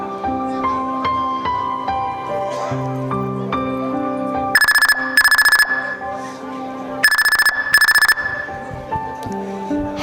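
During a school stage play, a mobile phone rings while a friend is being called: a melodic ringtone plays, broken twice by pairs of shrill, buzzing ring bursts, loud and near with no talk over it.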